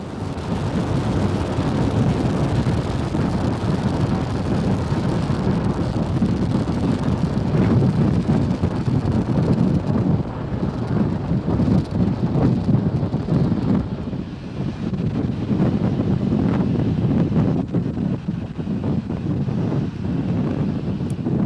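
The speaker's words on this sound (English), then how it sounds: "Falcon 9 has successfully lifted off from Pad 39A at Kennedy Space Center" A SpaceX Falcon 9 lifts off from Pad 39A at Kennedy Space Center, its engines a loud, continuous low rumble and roar that buffets the microphone like wind, easing slightly midway and then surging again.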